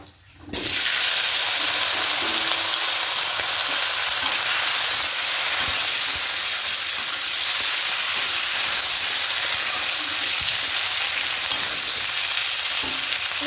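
Vegetables fry in hot oil in a pan for a Bengali fish shukto. A loud, even sizzle starts almost at once and roars steadily throughout, with faint clicks of stirring underneath.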